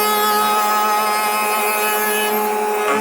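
Router spinning an Axcaliber stile and rail cutter, a loud steady high-pitched whine with a constant tone throughout, close by and without talk.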